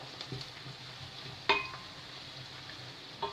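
Onions fry in a pan for an eggplant and minced meat dish, with a steady soft sizzle throughout and a sharp clink of a utensil against the pan near the middle and again at the end.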